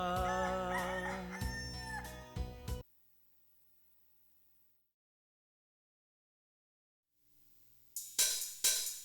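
A rooster crows loudly up close, followed by a long silence, then another burst of sharp, loud crowing.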